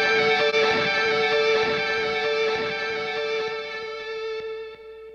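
Sustained distorted guitar notes through a four-tap delay, each attack trailed by several fading echo repeats that ring out and decay toward the end.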